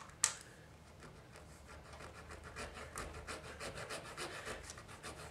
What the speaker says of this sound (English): As far as cutting it, just a regular coarse blade.